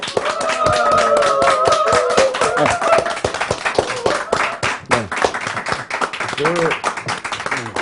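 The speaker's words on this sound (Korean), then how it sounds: "초대 손님 홍기빈 소장님을 박수로 모시겠습니다." Studio audience clapping to welcome a guest on a Korean talk show, brisk loud claps from a small group over several seconds, with voices talking over them throughout.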